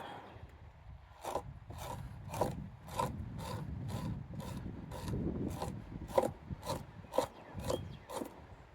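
An otter pelt being scraped during fleshing, a rasping blade drawn across the hide in about a dozen steady, close strokes, each a short scratchy swipe over a low background rumble.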